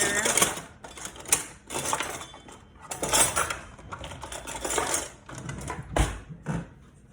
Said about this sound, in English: now we've got the tomato sauce going. I'm going to give it a nice little stir.